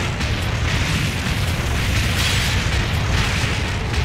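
Cannon fire in the arcade gun game Deadstorm Pirates, a dense continuous stream of booming blasts and bursts layered over game music, loud and sustained with no pauses.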